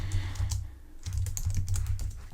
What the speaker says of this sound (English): Just type in our details.